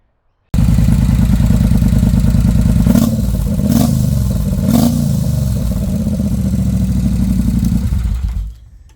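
A bobber motorcycle with a modified stock exhaust roars loudly and steadily up close, with a few sharp revs of the exhaust partway through before it cuts off near the end.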